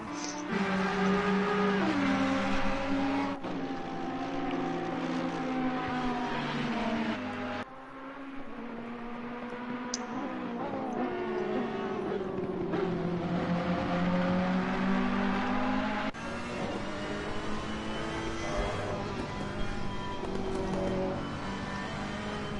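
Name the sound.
GT3 race cars, V8 engines, racing video game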